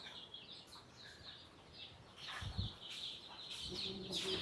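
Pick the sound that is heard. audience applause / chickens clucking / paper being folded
chickens clucking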